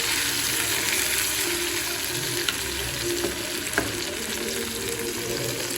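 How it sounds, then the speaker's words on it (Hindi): Potatoes fry with tomatoes and chillies in a pan, a steady close sizzle with occasional stirring clicks and small pops, no talking. "यहाँ पे सबसे पहले मैं आलू भूनूंगी, इसके बाद में डालूंगी टमाटर और मिर्ची"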